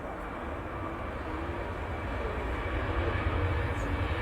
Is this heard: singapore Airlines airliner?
yes